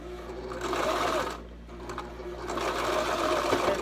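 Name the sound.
Brother LS2400 sewing machine stitching swimsuit coverup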